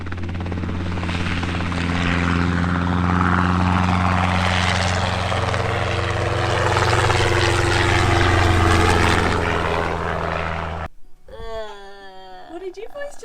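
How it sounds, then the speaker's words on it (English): A helicopter drones loudly and steadily overhead with a constant rotor thrum, fading out near the end as a voice speaks, somewhere along a remote outback highway. "Helicopter."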